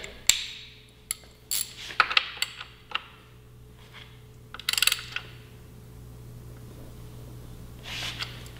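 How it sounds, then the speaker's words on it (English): Wrench clicks and metallic ratcheting while tightening frame slider bolts on a 2017 Yamaha R6 sportbike, several sharp close taps and clicks in short bursts over the first five seconds, then quieter handling noise. "we'll go ahead and torque these down"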